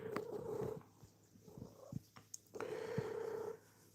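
A cat purring close up, soft rumbling in two long stretches separated by a quieter gap with faint clicks.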